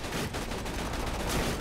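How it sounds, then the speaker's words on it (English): Rapid gunfire in Borderlands 2 aimed at a flying buzzard: a steady, dense stream of shots and crackling impacts, fairly faint, with no talking. "I'm shooting it down, don't worry."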